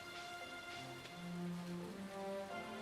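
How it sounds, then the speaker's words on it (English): Steady rain falls in the farming video game Stardew Valley, a faint, even patter with soft musical tones underneath and no talk. "Is it raining out there?"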